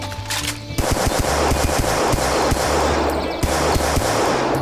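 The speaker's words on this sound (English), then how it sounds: "Oh, we have a submachine gun." Rapid automatic submachine gun fire from the Doom mod VietDoom, a loud, steady stream of shots sustained for several seconds after a short pause, with no talking.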